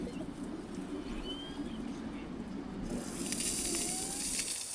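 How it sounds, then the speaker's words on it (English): A killer whale rubs its body against a pebble bottom, heard through an underwater microphone as a steady, raspy, grinding wash with faint squeaks and whistles, growing slightly brighter toward the end. "The underwater microphones pick up the raspy sound of a whale scraping against the bottom."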